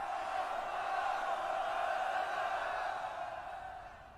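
Steady, dense roar of a large crowd applauding and cheering in the video game Thronebreaker, sustained and even throughout before easing slightly at the end.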